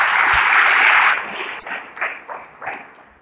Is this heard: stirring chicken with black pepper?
no